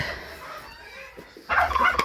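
Frightened turkeys in a farmyard let out a sudden loud gobbling burst near the end, after a stretch of quieter ambient noise.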